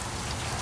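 Rain pours down outside in a thick, unbroken wash of falling drops, close and loud, with no voices heard.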